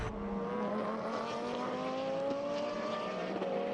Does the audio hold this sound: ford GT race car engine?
yes